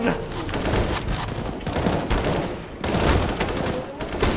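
A Nova shotgun fires in Counter-Strike: Global Offensive amid a loud, dense, unbroken barrage of gunfire lasting several seconds.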